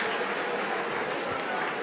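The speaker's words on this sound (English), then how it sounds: "If you can hear me, clap, clap 3 times." Conference audience at an opening ceremony clapping together, a dense, steady wash of hands spread across the room, fairly quiet and continuous for the whole moment.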